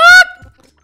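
A cartoon chicken in the Donut County video game lets out one short, loud, honking squawk, followed by a faint soft sound and then silence.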